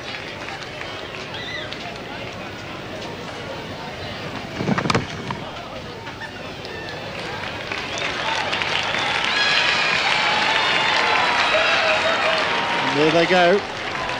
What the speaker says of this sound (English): generous applause from this good crowd here in Hobart